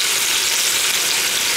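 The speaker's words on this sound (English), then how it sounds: "I'm going to sear these for, you know, just till they're brown." Oxtails sear in a hot pan of olive oil and butter for a Cajun oxtail stew, giving a loud, steady, dense sizzle that fills the short moment without a break.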